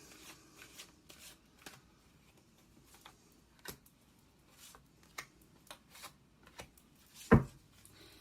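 Black Moon Astrology cards are shuffled and handled close up, a quiet run of soft rubbing and light taps with a sharper slap near the end, no voices.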